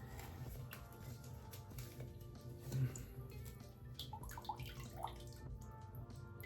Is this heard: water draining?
yes